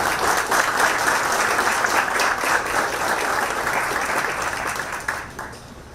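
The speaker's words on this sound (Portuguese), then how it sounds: "queria puxar aqui uma salva de palmas" An audience at an agribusiness event claps for a speaker being introduced, a thick, even round of applause that keeps going for several seconds before thinning out toward the end.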